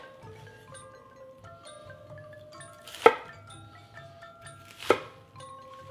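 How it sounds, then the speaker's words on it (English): A knife cuts a head of cabbage into quarters on a cutting board, with two sharp, distinct chops about two seconds apart over quiet kitchen background and soft music. "I have a nice head of cabbage, which I will cut into small quarters."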